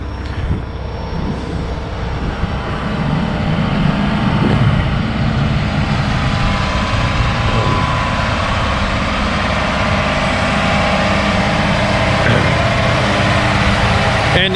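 A self-propelled crop sprayer, used for spraying fungicide on corn, driving back up onto a trailer, a loud steady engine roar and mechanical drone held at close range throughout.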